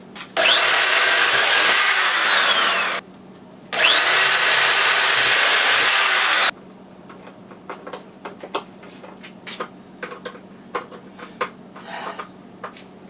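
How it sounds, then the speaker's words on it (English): A power drill pre-drilling holes in wood for a guitar speaker cabinet whines in two bursts of a few seconds each, followed by quieter clicks and small knocks of handling. "I'm going to pre-drill them and then put the speaker on and screw them in."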